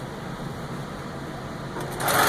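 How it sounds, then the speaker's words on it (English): Sewing machine stitching stocking binding, a faint steady motor whir through most of the moment, turning louder and brighter near the end. "you're gonna sew it flat to the edge"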